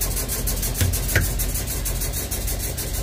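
A truck engine idles nearby with a steady, even low rumble and no revving, filling the whole stretch without voices.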